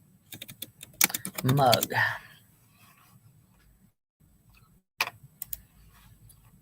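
Fingers typing on a computer keyboard, quick bursts of clicking keystrokes with a pause, then a few more taps, while someone speaks briefly over them.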